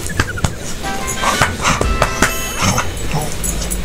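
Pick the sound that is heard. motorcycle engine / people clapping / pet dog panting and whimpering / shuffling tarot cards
pet dog panting and whimpering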